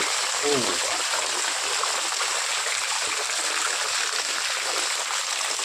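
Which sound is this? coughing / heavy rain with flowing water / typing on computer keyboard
heavy rain with flowing water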